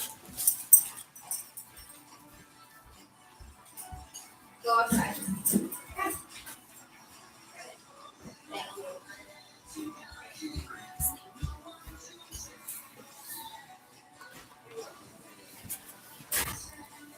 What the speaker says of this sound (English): Hang on, I got a whiny dog.